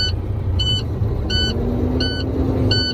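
A truck engine idles and revs steadily in neutral to build air brake pressure, a loud continuous low rumble whose pitch rises slowly, with a repeating high electronic beep sounding about every 0.7 seconds throughout.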